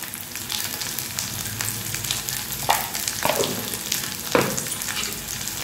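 Chopped green chilli, capsicum and red bell pepper, salted, sizzle and crackle steadily in a hot pan while raw jackfruit chilli is cooked, with a few sharper stirring scrapes near the middle and end, close and continuous, no voices.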